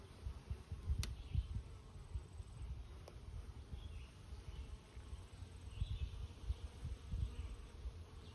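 Honeybees buzzing around their hives outdoors on a summer day, a faint, steady low hum of many insects with occasional closer fly-bys and soft background noise, no talking.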